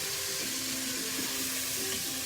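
Cubed chicken thighs browning in a pot for Creole jambalaya, giving a steady close hiss and sizzle with faint scraping, no talking over it.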